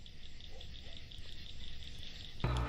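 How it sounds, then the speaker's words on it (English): Insects and other nature noises from a location shoot for a horror film, a steady chirring bed of crickets and frogs running throughout, with a louder burst of sound near the end. "Between the ambient soundtrack and the insects and other nature noises due to the location shooting, there's a lot of noise in there"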